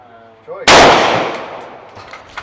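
A single loud gunshot cracks at a shooting range, sharp and close like a firecracker, with a long reverberant tail fading out over the next two seconds.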